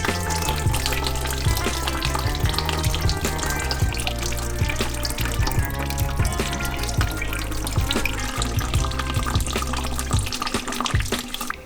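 Coolant from a BMW E36 318ti Compact's M44B19 engine pouring and splashing onto a garage floor, a steady continuous liquid gush with sizzling, watery texture and occasional clanks, loud and close throughout with no talking.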